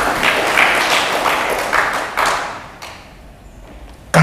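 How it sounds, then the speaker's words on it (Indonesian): A church congregation bursts into loud cheering and applause, a dense crowd roar that swells in waves, dips, then surges again at the end. "Beri sorak-sorai bagi Tuhan."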